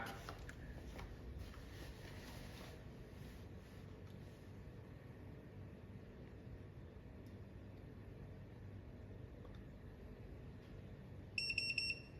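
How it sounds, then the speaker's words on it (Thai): A short burst of electronic beeps from a moisture analyzer finishing its measurement sounds near the end, over a quiet background hum. "สัญญาณเสียงดังขึ้น เครื่องบอกว่า ตอนนี้ทำงานเสร็จแล้ว"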